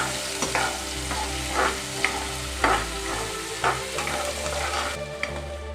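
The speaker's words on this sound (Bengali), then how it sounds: "তারপরে এর মধ্যে অ্যাড করছি আমরা একটা পেঁয়াজ কুচি। তারপরে এর মধ্যে অ্যাড করছি আমরা লঙ্কা কুচি। নিয়ে হালকা করে আমরা একটু ফ্রাই করে নেব।" Chopped onion, chilli and cumin frying in a pan for an egg, potato and flour breakfast, a steady close sizzle punctuated by repeated spatula scrapes and knocks, with a low hum beneath and no speech.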